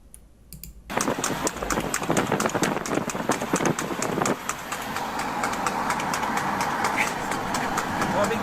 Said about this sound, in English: I love the trotting sound.